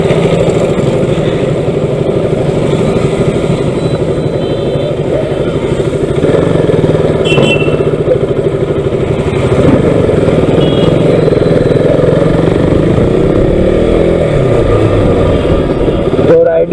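A KTM RC 200 motorcycle ridden on a road near Jaipur, its single-cylinder engine droning steadily and loudly as it runs, with the pitch rising slightly toward the end; someone talks over it.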